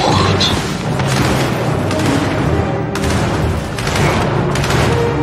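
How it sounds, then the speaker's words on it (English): Heavy gunfire in the Gears 5 video game: dense bursts of shots and booms roll on without pause over a steady battle din, loud and close. "Who the hell are they firing at?"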